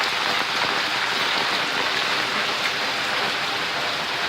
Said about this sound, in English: it's raining in here.